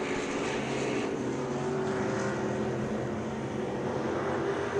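Race cars roar past on an oval track during a racing event, a steady, loud engine drone with a slight rise and fall, no speech over it.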